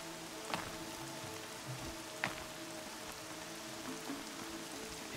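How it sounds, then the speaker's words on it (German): Steady rain falling in the game Horizon Zero Dawn: The Frozen Wilds, a soft continuous hiss with a couple of sharper drop-like ticks, faint and even throughout. "Schade, dass es regnet."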